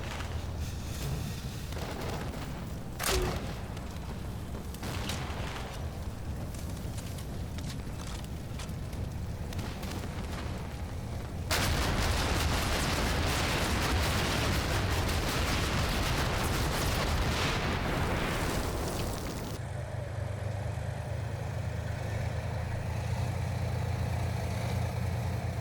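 Grenade launcher and autocannon fire in the video game Combat Mission: Black Sea, a sniper firing on a BMP-3: sustained loud rumbling bursts and booms with a sharp report early on, over a steady engine drone.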